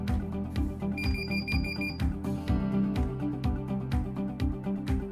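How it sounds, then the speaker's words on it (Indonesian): A high electronic alarm buzzer on a greenhouse hydroponics control system beeps in a short repeated burst over a steady rhythmic pump thumping and hum. "nanti buzzer dan pompa akan berbunyi"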